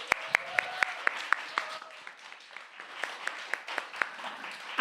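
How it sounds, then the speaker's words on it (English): Audience members at a poetry festival clap, with a few sharp, distinct claps ringing out at a rhythmic pace over a thin bed of scattered applause, and a voice briefly audible underneath. "Big round of applause for them,"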